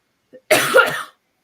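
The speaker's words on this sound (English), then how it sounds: "Sorry, my cough is still not gone." A single close, hoarse cough, preceded by a tiny throat sound, with silence on either side.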